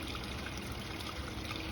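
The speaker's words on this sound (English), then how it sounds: "You got a nice little waterfall here" A small waterfall spills into a koi pond among rocks, making a steady, close trickling and bubbling wash of water that runs evenly without pause.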